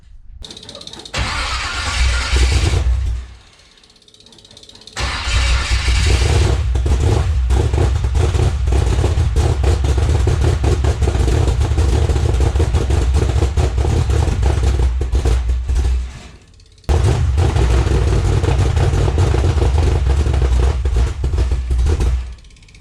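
Ford ute engine fitted with a swapped carburettor being cranked and started, then running loudly up close in gear with a rough clattering idle. It cuts out twice and restarts.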